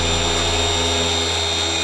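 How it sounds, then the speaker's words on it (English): A machine polisher buffs the car paint of a 30-year-old Toyota Supra after hand wet sanding with 1500, 2000 and 3000 grit, a loud, steady, close motor whine running continuously with no voices. "Now I'm gonna go ahead and polish this out and see how it looks."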